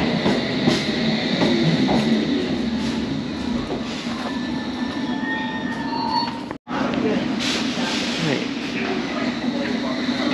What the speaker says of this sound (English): Barking train leaving platform number one.